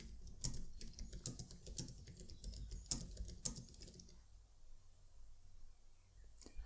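Rapid clicking of a computer keyboard with irregular bursts of keystrokes, close and crisp, that stop partway through and leave a quiet room with no speech.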